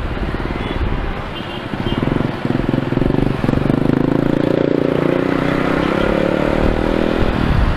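Kawasaki 650 motorcycle underway, a steady engine drone and rumble that rises in pitch as it speeds up, close and loud throughout with some rattle and wind noise.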